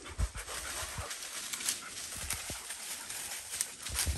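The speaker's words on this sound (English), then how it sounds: "That may have been why she's barking." A Black and Tan coonhound hunting outdoors pants rapidly and steadily, with scattered thumps and brushing from movement over rough ground. No clear barking stands out.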